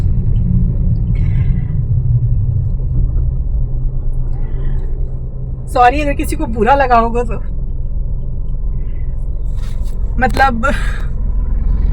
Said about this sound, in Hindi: गाड़ी रोक देती हूँ